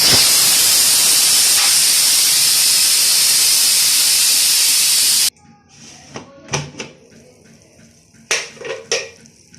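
Steam hisses loudly and continuously from a pressure cooker being opened for a mongray recipe, then cuts off abruptly and gives way to quieter scattered clatters and knocks.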